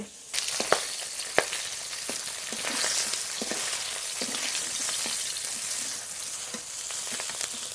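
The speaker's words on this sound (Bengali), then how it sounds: "এই মাছগুলো খুব ভালো করে ভেজে নিয়েছি, নামিয়ে নেব। একই তেলে বাকি মাছগুলো ভেজে নেব।" Pona fish pieces fry in hot oil, producing a steady close sizzle broken by several sharp spatula clicks and taps against the pan.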